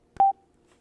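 A single short electronic confirmation beep from a Packtalk Edge motorcycle headset after its phone button is tapped, clean and close, then quiet.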